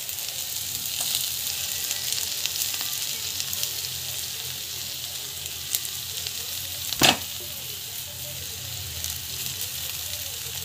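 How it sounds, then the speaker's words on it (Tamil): Potatoes sautéing in a pan for aloo palya give a soft, steady sizzle throughout, with faint stirring scrapes and one sharp clatter near the middle. "நல்லா வந்து வதக்கிட்டுருக்கேன்"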